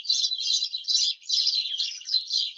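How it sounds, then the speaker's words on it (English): Several birds sing and chirp in a continuous, bright chorus of overlapping high tweets, fairly close and steady with brief dips, with no talking. "the singing of birds is like a thunder of joy, celebration"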